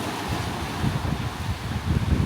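Atlantic Ocean surf and wind on the Shetland coast: a steady broadband wash of waves with low rumbling surges swelling in and out, wind noise buffeting throughout, no voices.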